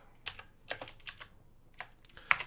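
Keys on a computer keyboard tapped in a few short, separated bursts, close and fairly quiet, with pauses between keystrokes and no voices.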